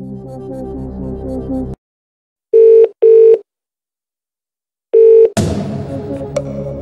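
Telephone dialing from a Who Wants To Be A Millionaire? 2nd Edition DVD game's phone-a-friend: three loud steady tones, two close together then one more after a pause, between stretches of background music.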